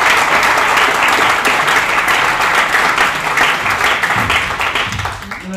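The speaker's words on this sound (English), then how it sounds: "please give the panel a big round of applause" Audience applause for a panel at a hotel conference in Amsterdam, strong continuous clapping from a room full of people that tapers off as a voice comes in at the end.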